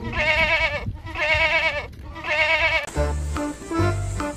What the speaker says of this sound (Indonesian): Ada kambing.